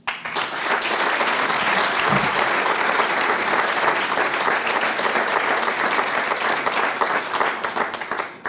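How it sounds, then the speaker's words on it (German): Loud, sustained applause from a public talk-show audience in Pfullingen, dense even clapping running continuously from start to finish with no voices over it. "und da dürfen wir auch nochmal klatschen"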